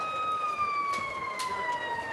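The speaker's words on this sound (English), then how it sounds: "Uh-oh, a siren." A wailing siren sweeps steadily downward in pitch, clear and fairly close, with a few faint clatters in the background, during a polo match at The Villages Polo Club.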